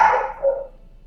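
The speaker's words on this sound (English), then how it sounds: "He's barking back." A dog indoors gives one loud, close bark that trails off quickly, then falls silent.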